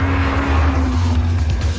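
A 2007 Honda Civic Type R on a race track roars under hard acceleration, a loud, steady, close engine drone with a sustained high tone throughout.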